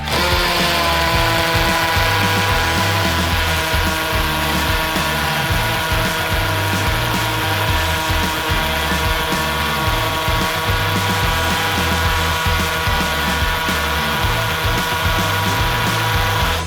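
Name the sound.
power drill drilling into brick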